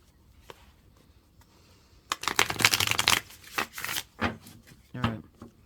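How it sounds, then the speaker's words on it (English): A deck of tarot cards is shuffled up close, first with faint taps, then with a dense, papery riffling burst and a few further clattering shuffles. "That was the chunkiest shuffle ever."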